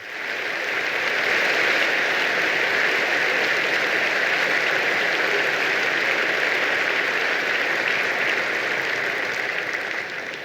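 A large audience at the Chicago Council claps steadily, sustained, dense applause lasting about ten seconds before fading slightly at the end.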